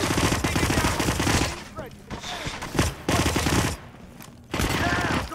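Video game gunfire, rapid automatic bursts rattling loud and close in several volleys separated by short pauses, with scattered single shots between them.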